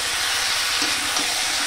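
Capsicum frying in spiced oil in a pan for a boal fish curry, a loud steady sizzle with a few soft stirring scrapes underneath.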